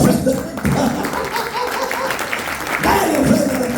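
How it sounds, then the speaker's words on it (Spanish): Church congregation applauding during a Spanish-language sermon, a dense sustained wash of clapping with voices mixed in and a brief dip partway through. "Dale ofrenda de palmas."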